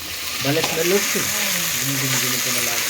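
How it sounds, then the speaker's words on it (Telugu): Beans and rice frying in a pan for red lentil khichdi, with a steady close sizzle throughout as someone talks over it. "ఆ రైస్ తగ్గట్టు ఇది ఫ్రై చేసుకుందాం మంచిగా"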